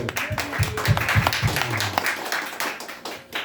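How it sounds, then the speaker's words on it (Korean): A church congregation at a Sunday service breaks into applause, a few distinct low claps or taps giving way to a busy spread of many hands at moderate loudness, with faint voices mixed in. "하나님께 그러니까 영광의 박수"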